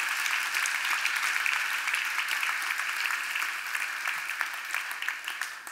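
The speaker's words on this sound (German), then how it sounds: "Darum schon mal einen großen Applaus" Steady, even applause from an audience at a triathlon awards ceremony, a dense wash of many hands clapping at moderate volume that holds throughout and tapers slightly at the end, with no talk over it.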